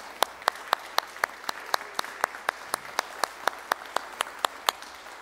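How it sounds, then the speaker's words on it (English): A congregation at a church service claps to welcome a new member; sharp, evenly spaced claps in a steady rhythm, fairly close and alone without talk. "Let us welcome this new member with a nice round of applause."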